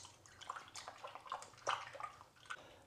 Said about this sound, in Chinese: 加入食用盐给猪肝消消毒，顺便搓洗一下猪肝表面，去掉一些杂质和一些脏东西